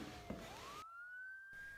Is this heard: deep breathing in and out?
no